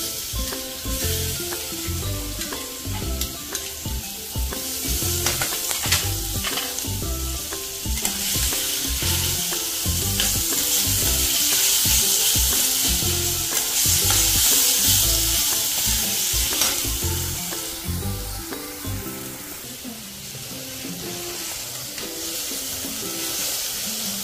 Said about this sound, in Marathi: कढीपत्ता टाकतीये आणि आता हे वाटण केलेलं